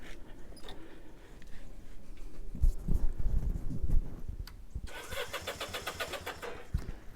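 A 1966 Honda CA95 Benley barn-find motorcycle engine being started: a few seconds of quiet, then a burst of cranking and sputtering, followed by a steady, rapid, buzzing small-engine idle close by.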